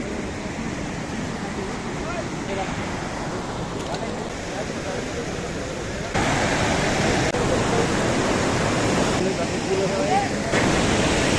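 A roaring mountain stream near a wooden bridge on the trail from Manali toward Hampta Pass, its steady broadband rush close and loud throughout, growing louder partway through.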